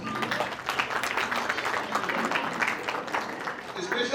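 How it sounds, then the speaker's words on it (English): Audience at a school annual day celebration claps in a dense, steady patter of many hands, moderately loud and continuous throughout the short burst. "Give them a big round of applause."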